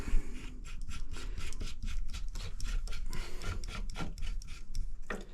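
A Draper tap reseating tool grinds and cleans a tap seat, giving a steady gritty rasp in repeated rubbing strokes, close and fairly loud with no talking.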